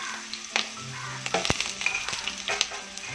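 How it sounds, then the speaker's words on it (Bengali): Eggplant and potato pieces fry in a pan for a spinach dish, giving a moderate sizzle broken by a few sharp clinks and scrapes as they are stirred, with no voices. "ভালো করে নেড়ে ভেজে নেব।"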